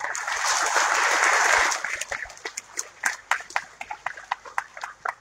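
An audience at a municipal education council swearing-in ceremony breaks into dense, loud applause that thins after a couple of seconds into scattered individual claps fading out.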